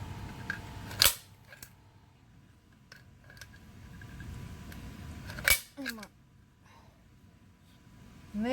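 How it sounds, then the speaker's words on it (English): A nail gun fires while an orchid is mounted onto a tree outdoors, giving two sharp, loud snaps several seconds apart against a quiet background, with brief talk between them. "Nail gun"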